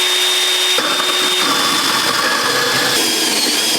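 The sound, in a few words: Hilti Nuron cordless band saw cutting a workpiece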